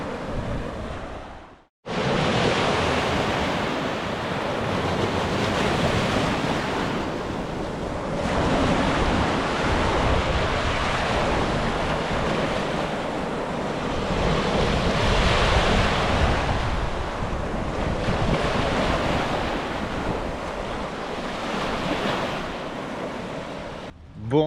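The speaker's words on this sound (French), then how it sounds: "Et le bruit des vagues." Ocean waves surge and wash continuously, loud and close, with heavy wind buffeting the microphone throughout.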